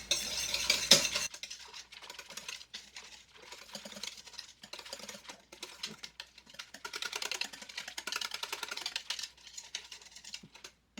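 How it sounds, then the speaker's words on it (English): A whisk stirs a cup of powdered milk into milk in a bowl for homemade yogurt, giving a steady run of quick, light scraping and tapping strokes up close after a brief sharp clink at the start. "So a cup of powdered milk. We're going to whisk that in."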